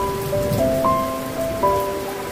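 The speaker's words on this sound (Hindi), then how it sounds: "इतनी खतरनाक बारिश आ रही है," Heavy rain pours down as a dense hiss, with faint tonal hums running through it and no voices; small hailstones had been falling moments before.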